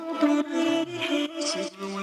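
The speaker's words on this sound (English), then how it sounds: "these are the vocal chops" Chopped vocal samples from Splice, arranged in FL Studio for a house track, play as short sung syllables in a choppy melodic sequence, each clipped note stepping between pitches in quick succession.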